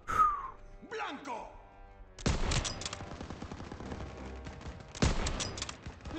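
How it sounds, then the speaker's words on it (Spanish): Bursts of rapid automatic gunfire from the World War II shooter Call of Duty WW2 rattle loudly for about a second, then fire again in a second long barrage after a pause, following a brief opening call. "¡Les están disparando por la espalda!"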